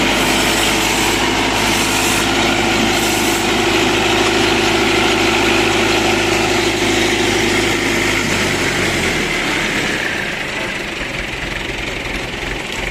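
A tractor engine drives a mobile sawmill, running as a loud, steady close drone with a constant hum that drops in level and slows near the end as the machine winds down.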